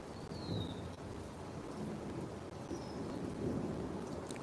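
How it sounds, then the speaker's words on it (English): Low, rolling thunder rumbling through a steady wash of rain, heard faintly and from a distance, with no voices over it. "Hear it? Thunder."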